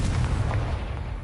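A Confringo blasting spell goes off in a video game, a single dull, heavy boom that fills the short moment with a rumbling low burst and fading noise.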